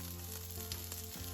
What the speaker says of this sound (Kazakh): Тауық етінің екі жағында алтын түстес болғанға дейін қуырып аламыз